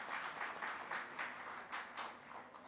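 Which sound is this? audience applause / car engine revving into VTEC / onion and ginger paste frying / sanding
audience applause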